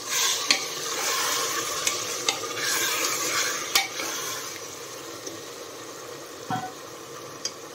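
Chicken marinated in turmeric and salt sizzles steadily in a hot pan for biryani while a spoon stirs, with a few sharp scraping clinks against the metal.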